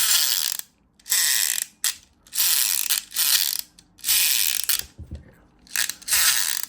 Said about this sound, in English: when you pull it, his rotors spin, making an awkward sound